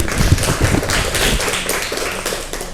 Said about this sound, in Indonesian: Tepuk tangan kepada kalian semua.